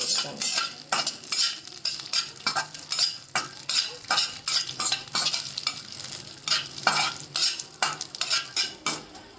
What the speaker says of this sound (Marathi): ड्राई ड्रायफ्रूट्स भाजून घेते सर्व तेलामध्ये तुपामध्ये साजूक तुपामध्ये चांगले खमंग असे भाजून घ्यायचे